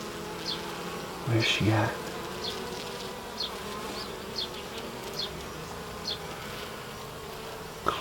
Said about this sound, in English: There's a cluster of bees on this side.